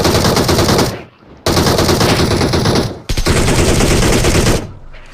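Rapid automatic gunfire in a video game rattles in three long, loud, close bursts separated by brief pauses.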